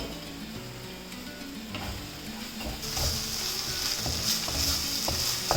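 Masala sizzling and frying in a pan for lobster curry, stirred with a spoon that scrapes and taps the pan, a steady hiss growing louder partway through, no voices.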